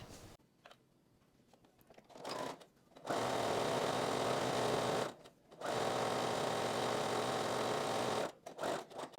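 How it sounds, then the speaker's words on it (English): A sewing machine stitching dress straps, starting with a few short bursts and then running in long steady close whirring stretches separated by brief pauses, ending with quick stop-start stitches. "I'm going to sew with a 1 centimeter seam allowance away from the folded edge here"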